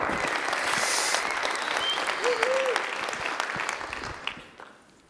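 Sustained audience applause with some crowd noise greets a speaker at a startup demo day event. It stays steady and full before tapering off near the end.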